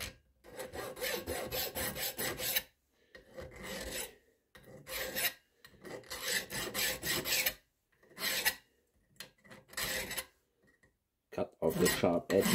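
A metal file rasps the sharp edges off a small steel peep-sight slider for a scratch-built Jäger rifle, in repeated bursts of strokes separated by brief pauses.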